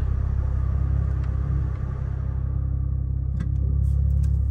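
A Toyota Supra MK5 fitted with an Armaspeed full carbon intake drives along a road in normal mode, its engine giving a deep, steady rumble from inside the car that dips briefly before swelling again, with no talking.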